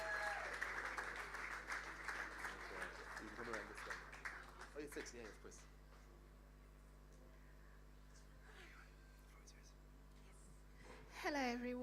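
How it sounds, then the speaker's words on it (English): Applause for the next speaker at a storytelling performance at a literary festival, a dense round of clapping in the first half that fades out, with murmuring voices over it. "If everyone can give her a big, warm round of applause as she makes her way up here."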